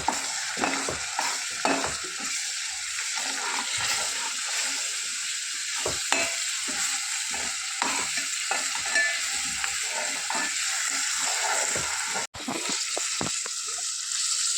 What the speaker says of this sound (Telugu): ఆనియన్లోనే అల్లం వెల్లుల్లి పేస్ట్ వేసి వేయించామన్నాను